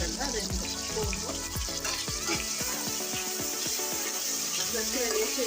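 Freshly made ginger-garlic paste sizzles in hot oil in a pan for a goat leg curry, a steady close crackle with scraping stir strokes throughout.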